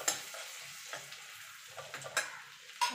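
Chopped ginger and garlic frying in a pan on low gas for chicken soup, a soft, steady sizzle broken by several sharp stirring clicks and scrapes, with no talking.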